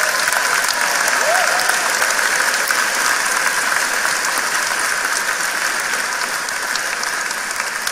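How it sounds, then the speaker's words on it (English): A large crowd at the Joplin High School 2019 graduation applauds the band and ROTC, producing sustained, dense clapping that stays strong throughout and fades only slightly toward the end. "let's give our band and ROTC a huge round of applause."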